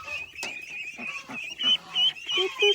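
Egg-laying ducks on a farm call in a series of short, nasal quacks that grow louder and more frequent toward the end, close by with farmyard background noise and no talk.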